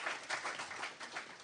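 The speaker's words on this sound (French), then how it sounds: "on peut vous applaudir" Applause from a conference audience at a panel on rural youth in Europe, a steady wash of many hands clapping at moderate distance, fairly faint and continuous with no voices on top.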